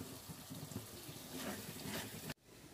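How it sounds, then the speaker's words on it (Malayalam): Hot water poured into a pan of egg roast masala, a steady running splash held for over two seconds before stopping abruptly. "ഇതപ്പോൾ ഞാൻ കുറച്ച് ചൂടുവെള്ളം കൂടി ഇതിൽ ഒഴിച്ചു കൊടുത്തിട്ടുണ്ട്"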